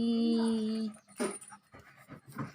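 A pet puppy lets out a brief high whimper, then a few short, close breathy pants in quick bursts.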